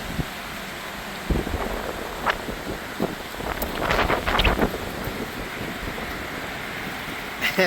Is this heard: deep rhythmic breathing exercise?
no